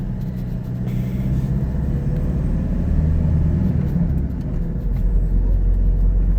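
A Toyota Innova with a 1GD diesel engine, EGR recently cleaned, labours up a hill, a loud steady low rumble heard from inside the cabin with road noise and faint voices.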